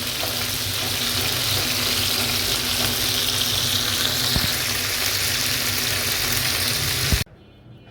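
Spiced chicken fries in a pan with a loud, continuous crackling sizzle and a low background hum, ending abruptly.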